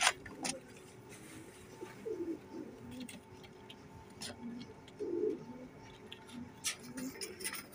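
Soft Billa pigeon coos repeat several times at a moderate distance, with low murmuring calls over a quiet background and a few faint rustles.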